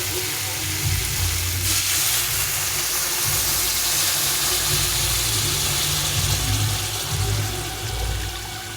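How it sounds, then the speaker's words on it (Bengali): Mustard water is poured into a simmering fish curry, and the steady watery rush blends with a continuous sizzling bubble from the pan throughout. A low hum runs beneath it. "উপর থেকে সর্ষের জলটা দিলাম"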